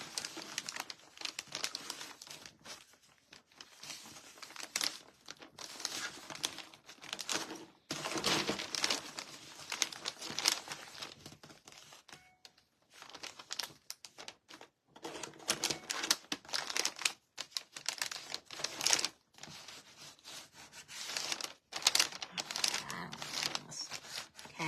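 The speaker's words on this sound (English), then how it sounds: "Go fold it up to the edge." Paper being folded and creased for a handmade card, with bursts of close crinkling and rustling broken by short pauses as the sheet is pressed flat.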